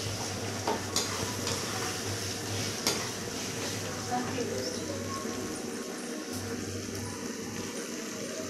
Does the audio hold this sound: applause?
no